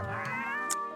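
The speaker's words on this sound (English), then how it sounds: "There's so many cats meowing." A cat lets out a single drawn-out, wavering meow, close and clear, lasting about a second with nothing else around it.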